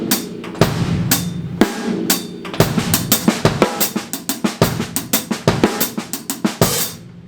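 Drum kit playing a slow sextuplet shuffle groove at 60 bpm, with steady, evenly spaced hits and accented strikes repeating throughout, close and loud with no talking.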